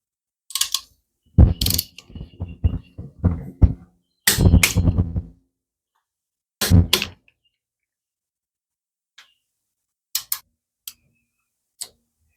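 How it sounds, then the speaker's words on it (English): A ratchet wrench clicks in short bursts while engine bolts on a Harley-Davidson Sportster are torqued down, close and crisp against silence, with sparse single clicks toward the end. "Let's go ahead and torque this down"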